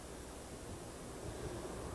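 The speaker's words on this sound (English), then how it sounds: "the water that's rushing in through the downtown village and going back into the river" Floodwater rushes through a downtown village in Champlain and pours back into the river, a steady broad roar heard from some distance with no talk.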